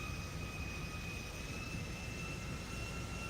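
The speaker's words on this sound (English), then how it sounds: "show the plane landing." Steady broadband roar of a fixed-wing aircraft landing, heard as it plays back from footage, with constant loudness and faint high engine whine tones running through the whole span, no talk.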